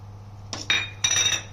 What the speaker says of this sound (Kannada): ಇವಾಗ ಅದನ್ನ ಕುಕ್ಕರ್ಗೆ ಹಾಕ್ತೀನಿ